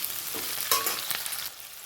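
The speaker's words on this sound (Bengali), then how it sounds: "ক্যাপসিকাম এবং পেঁয়াজটাকে আমি সুন্দর করে ভেজে নিয়েছি" Capsicum and onion fry and get stirred in a pan for chilli chicken, a steady close hiss of sizzling oil with a few scraping stir strokes.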